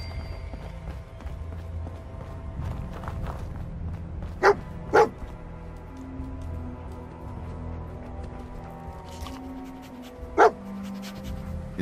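Dogmeat, the canine companion in the Fallout 4 video game, gives two quick barks close together and a third a few seconds later, with soft panting and game ambience underneath.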